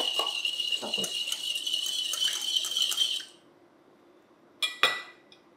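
Rice bagel dough ingredients, salt and cooking oil, being mixed in a bowl, with bright metallic clinking and scraping for about three seconds, then near quiet and two sharp clinks at the end.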